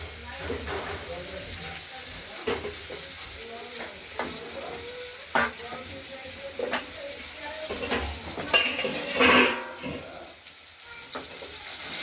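Turmeric and ground spice paste frying in a pan with potatoes, a soft steady sizzle broken by scraping stirs and clinks of a spoon against the pan, with some water sounds.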